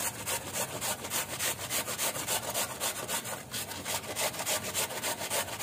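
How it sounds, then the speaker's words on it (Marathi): Food grated by hand on a grater in a home kitchen, a steady rhythmic rasping of quick back-and-forth strokes, close and continuous, with no voices. "असं किसून घ्यायचं."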